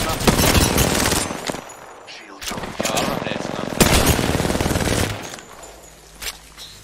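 Gunfire in the game Apex Legends during a team fight, with dense rapid bursts and overlapping shots that pause briefly and resume, then fade toward the end. Voices are faintly mixed in.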